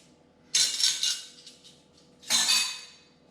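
Dry mixture being stirred into peanut butter protein donut batter in a bowl, two bursts of scraping and clinking utensil strokes separated by a short pause.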